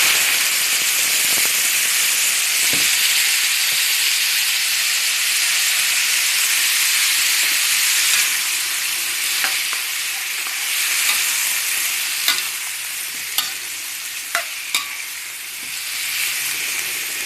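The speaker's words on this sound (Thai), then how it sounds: "น้ำมันร้อนแล้วนะคะ ผักพร้อมเครื่องปรุงใส่เลย" Mixed vegetables and seasoning stir-frying in hot oil in a wok, loud continuous hiss and sizzle, with clinks and scrapes of stirring growing more frequent toward the end, no talk.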